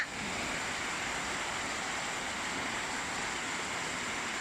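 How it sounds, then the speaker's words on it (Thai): Steady, dense hiss of heavy rain pouring during Songkran in Thailand without a break, even and loud throughout. "อะไรฝนตกนะ"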